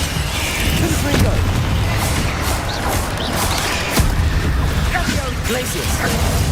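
Booming fire-blast spell explosions from the game Hogwarts Legacy land in repeated bursts, loud and close, layered with game effects and someone speaking spell names over them.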